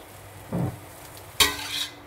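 Mee goreng being stirred and fried in a pan: a short scrape and sizzle, then a louder clatter of utensil against the pan followed by a hissing sizzle that fades away.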